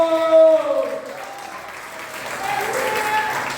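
A church congregation stands and applauds during worship, a soft spread of clapping under a sustained singing voice that fades, after which the applause swells a little near the end.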